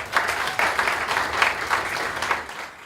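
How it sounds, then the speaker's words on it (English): An audience at a spring 2017 music recital claps for a young performer named Mason, a steady, dense patter of many hands that carries evenly for a few seconds and then starts to thin out. "Big round of applause for Mason"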